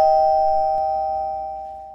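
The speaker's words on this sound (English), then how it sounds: "I'll go ahead and ring your doorbell now" A doorbell in an animated film rings as one sustained electronic tone that stays steady and fairly loud, fading slowly over two seconds, with nothing else heard.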